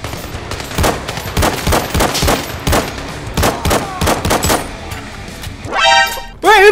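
Gunfire in the VR shooter ZeroCaliber, a long run of loud, evenly spaced handgun shots ringing close, then a brief pause before a high chirping electronic tone.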